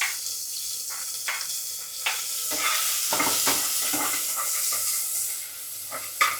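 Onion, garlic and two green chillies sauté in a pan for a spicy drumstick dal, a loud close hissing sizzle with repeated spatula scrapes and stirring sounds, and no voices.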